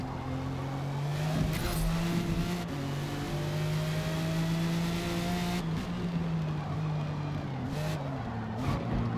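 A light Jaguar XJR race car on sport tires roars steadily through a racing game, its engine tone sustained and loud with pitch rising and dropping through gear changes, plus brief tire-scrub bursts near the middle.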